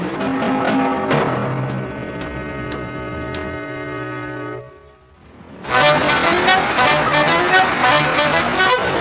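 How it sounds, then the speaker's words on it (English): Street traffic on a city road: cars and a bus or truck with a horn toot early on, engines rumbling steadily, a brief lull, then a louder, dense wash of passing vehicles nearby. "When I cross the street, I listen to the traffic on my left and on my right."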